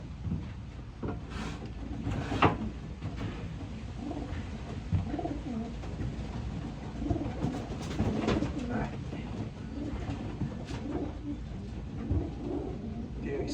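Racing pigeons cooing in a loft, soft repeated low coos scattered through steady background noise, with quiet talk in between.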